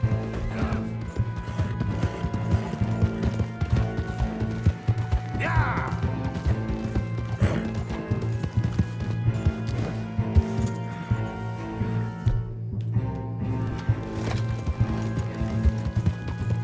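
Horse hooves galloping in the video game Red Dead Redemption 2, a steady fast clip-clop rhythm with jingling tack over a droning background, continuous throughout, with a voice speaking in parts.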